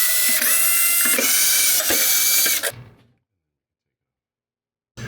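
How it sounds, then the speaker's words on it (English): Powered screwdriver backing Phillips screws out of a fridge ventilation cap, loud whirring bursts with ratcheting clicks for nearly three seconds, then silence and a brief final sound. "So we'll do that by removing 4 Phillips screws."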